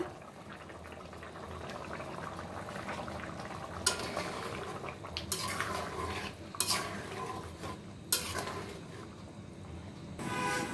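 Egg, potato and potol curry gravy simmering at a boil in a pot, a steady bubbling wash broken by several clinks and scrapes of a spoon against the pan.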